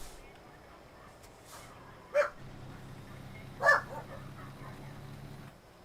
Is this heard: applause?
no